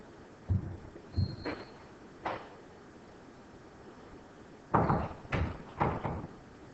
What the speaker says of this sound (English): I gotta lock the door here.